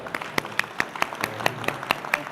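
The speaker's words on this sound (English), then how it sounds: "please give them a round of applause" Applause for panel speakers on the GBA Stage at Hong Kong FinTech Week 2023, with a few distinct nearby hands clapping in a loose, irregular rhythm over a thinner spread of clapping further back.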